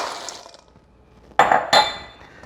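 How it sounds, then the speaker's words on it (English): Mixed nuts tumbling into a bowl for a grilled foil pack, two sharp clattering pours with clinking, after a quiet stretch. "Now we're gonna add in our nuts."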